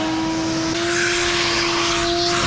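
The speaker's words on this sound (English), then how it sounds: "First, a quick vacuum." A vacuum cleaner runs steadily on the carpet of a stripped-down JDM Nissan Gloria VIP car, giving a loud, continuous motor whine with a sustained tone and no talk over it.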